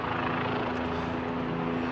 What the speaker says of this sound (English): this helicopter noise, I usually only hear on like Marathon Sunday